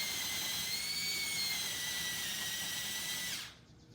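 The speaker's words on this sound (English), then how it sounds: "he's using a spade to just drill down" Power drill fitted with a spade bit boring into a 4-inch square block of 2x4 wood, a steady high whine held for over three seconds before cutting off abruptly.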